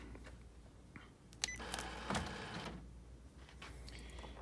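An Epson WF-3620/3640 inkjet printer powering off, with a few short mechanical clicks and a whirring carriage motor run in the middle, followed by quieter mechanism noise.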